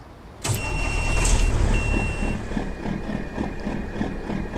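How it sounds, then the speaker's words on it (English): A heavy truck engine in American Truck Simulator cranks and turns over, then settles into a deep, steady rumbling idle with a faint high whine, loud and close with no talking. "let's crank up this beefy engine I got in here"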